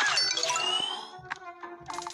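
Notification bell chime from a subscribe-button graphic: a bright ding with a shimmering decay, followed by a few shorter tinkling chimes toward the end, heard alone with no talk.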